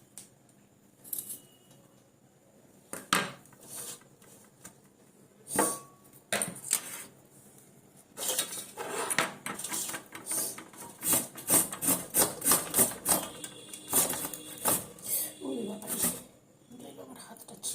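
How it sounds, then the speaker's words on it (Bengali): A potato is rubbed against a hand grater to make batter, scattered scrapes early on and then a dense run of quick rhythmic rasping strokes, close up, with talk in between. "একটা আলু নিয়েছি, আলুটাকে গ্রেট করে তারপরে ব্যাটার তৈরি করব"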